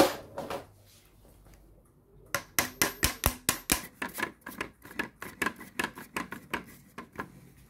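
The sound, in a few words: hammer tapping a toy car's front axle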